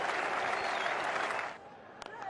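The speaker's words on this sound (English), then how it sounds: "That sent the Indian portion of this crowd into raptures" A cricket stadium crowd roars and applauds after a batsman's big hit, a dense sustained cheer that fades after about a second and a half into a few scattered claps and a calmer murmur.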